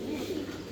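A red American Helmet pigeon, one of a pair of fancy pigeons, gives a short, soft, low coo, heard close and alone.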